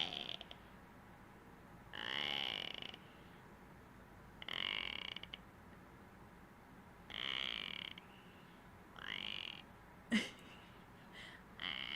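A frog in a backyard croaks in several separate bursts, each lasting about a second with pauses between, heard faintly through a closed window in a quiet room.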